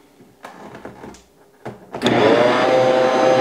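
A Bosch stand mixer starts up to mix flour and salt into dough. A few soft clunks come first, then the motor kicks in with a loud, steady whir that holds to the end.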